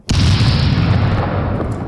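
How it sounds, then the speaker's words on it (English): A loud boom sound effect bursts in abruptly after a brief quiet start, then rumbles and decays slowly with a long, deep tail. "Give you an explosion for that."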